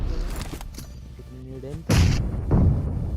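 Bombardment explosions from a battle royale video game, several heavy booms and bursts, two loud blasts near the middle and end over a rumbling background, with some talk in the game audio.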